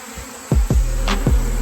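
Honey bees buzz as they are shaken into a container for a mite wash, a steady insect hum with a few dull thumps of the bees hitting the container, close and fairly loud.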